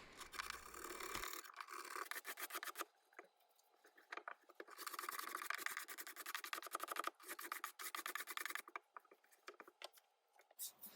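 Dull hand scraper dragged across wood in a salvaged restoration piece, coming as a series of rough rasping strokes in bursts with short pauses between, close and fairly loud, no talking.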